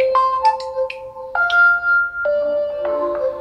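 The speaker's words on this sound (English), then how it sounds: "These are nature inspired ringtones and they do sound good." A nature-inspired aquamorphic ringtone on an OxygenOS or realmeUI phone plays clear, bright chiming tones in a melodic sequence of sustained notes, loud and alone.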